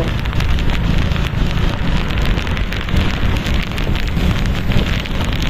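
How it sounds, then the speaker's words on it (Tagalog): Steady heavy typhoon rain pouring down on surfaces along a road, a dense continuous hiss with patter throughout, loud and close, no talking. "Umuulan ito mga ka-explore, umuulan."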